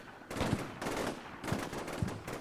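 Heavy gunfire in the war game Combat Mission Shock Force 2, with dense bursts of automatic fire and loud repeated shots in clustered volleys, briefly pausing between bursts.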